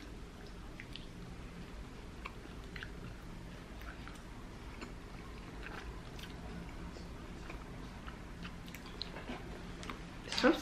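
Quiet, close chewing of Mexican candy coated in chamoy and Tajin, with soft squishy bites and faint crunches scattered across the clip and a louder bite at the end.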